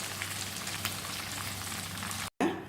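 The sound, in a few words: chicken frying in oil, Kerala-style chicken fry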